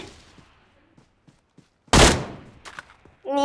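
Gunfire in a shooting video game: a single loud, close shot that fades over about half a second, a few faint clicks, then a short rattling burst at the end.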